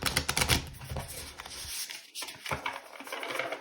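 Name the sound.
shuffling a tarot card deck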